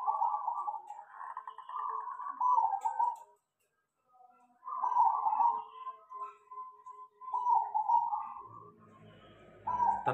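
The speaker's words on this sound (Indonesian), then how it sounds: "Tuh, perkutut bahan-bahan terlatih." A trained zebra dove (perkutut) coos in a rhythmic series of soft, mellow notes, close and clear, broken by a short pause before the calls resume, with faint ticking sounds near the end.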